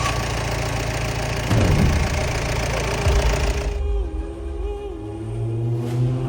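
A 1999 Mahindra MDI 4x4 jeep engine running, with a loud, steady diesel clatter close by that settles into a lower idle hum partway through.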